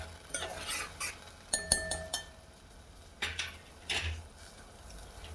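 A pan of tempered buttermilk base with turmeric and sugar cooking on low heat, stirred with a spoon that clinks and scrapes against the metal several times over a soft, quiet sizzle.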